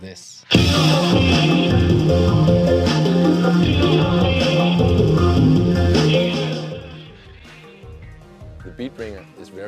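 Music plays through a Beat Bringer Bluetooth speaker, a loud full mix with vocals and beat that fades after about six seconds, followed by quieter scattered sounds.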